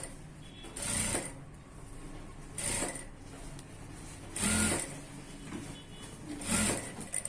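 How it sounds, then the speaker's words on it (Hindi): A sewing machine stitches a round seam on a one-piece garment in four short, quiet bursts spaced a couple of seconds apart, with soft mechanical handling noise between runs. "हम पूरे राउंड में सिलाई लगाते हैं"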